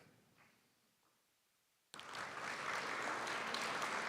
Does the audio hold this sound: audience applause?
yes